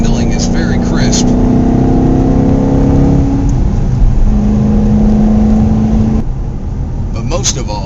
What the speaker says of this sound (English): it sounds amazing thanks to that interior intake tube from the engine bay.